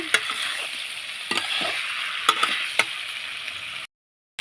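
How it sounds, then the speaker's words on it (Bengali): Cauliflower and potato stir-fry in a spice paste in a pan, a bright steady sizzle with sharp scrapes and knocks of the spatula, then a short pause into silence. "ফুলকপি আলুটা আমি এবার তুলে দিয়েছি ভালো করে এবার কষে নেব"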